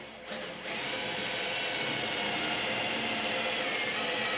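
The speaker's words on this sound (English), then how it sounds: "That's how I just drilled it off through." Power drill boring through metal while building a heat treatment oven, starting after a brief pause and running as a steady, fairly loud whine that continues to the end.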